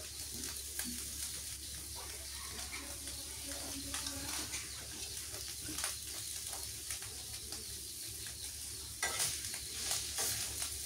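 Chopped onion sizzling with small river fish frying in a pan, a steady crackling fry with light stirring scrapes and taps, fairly faint and close.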